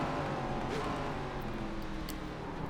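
An ARCA race car in the iRacing sim sweeps past on the left at the Chicago Street circuit, its engine a dense, sustained roar at moderate volume with no voices over it.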